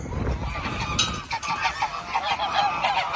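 Geese honk loudly and repeatedly at close range, a noisy barnyard chorus of overlapping calls over a rough background for about three seconds.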